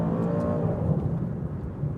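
A 2020 Maserati Quattroporte GTS GranSport with an 8-speed gearbox accelerates hard, its engine a steady loud drone from inside the cabin, with a brief dip as a quick paddle shift comes through.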